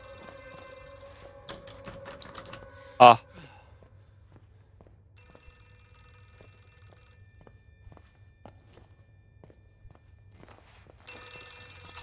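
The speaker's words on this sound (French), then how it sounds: "Téléphone qui sonne." A telephone bell rings once, loud and brief, in the horror video game Outlast 2, amid a quiet, sparse soundscape with faint footsteps and low hum, no speech.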